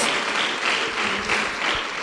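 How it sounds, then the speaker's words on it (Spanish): A church congregation at a campamento service claps hands loudly and steadily in praise, a continuous dense roar of many palms close by with no break across the short stretch. "Dele fuerte esas palmas al bendito Dios."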